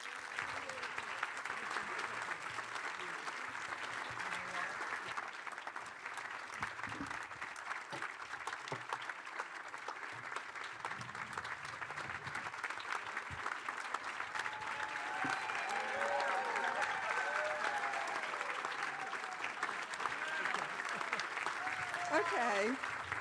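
A seated audience gives sustained applause to welcome two speakers onto a platform at a policy event on U.S. global risks, steady and moderately distant, with a faint voice speaking over it near the end.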